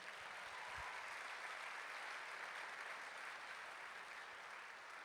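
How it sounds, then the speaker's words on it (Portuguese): A congregation at a family church service claps for the Lord in a continuous, even burst of applause that sounds soft and far off, holding steady for several seconds. "Dá um aplauso aí ao Senhor."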